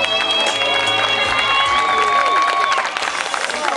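Audience at an urban dance and breakdance event applauds and cheers for a solo jury-prize winner, a dense, loud wash of crowd noise with whistles and shouts running throughout.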